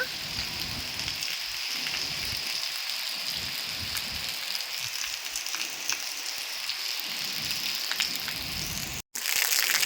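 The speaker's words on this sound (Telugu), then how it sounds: "చూడండి, చిన్నగా మొదలై వాన చాలా పెద్దగా వస్తుంది." Wind and rain in an evening summer storm with swaying trees: dense, steady patter of rain on surfaces with gusty low rumbles, continuous and close, broken by a brief dropout near the end.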